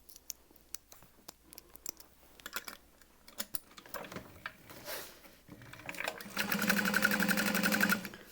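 A sewing machine works on a leather backpack bag, starting with scattered clicks and handling taps, then settling into a loud, fast, continuous stitching run over the final seconds.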